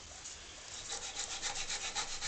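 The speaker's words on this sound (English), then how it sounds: "About carving with a sand plate or sanding disc on the lathe." Steady hissing abrasion with a faint rhythmic pulse as a sanding disc works a pipe stem spinning on a lathe, close up and continuous, without speech.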